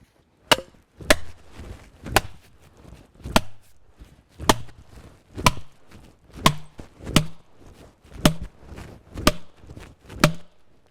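Heavy blows drive a wedge into a chainsaw kerf in a leaning tree, sounding as about a dozen sharp, evenly spaced woody strikes, loud and close, with no talking.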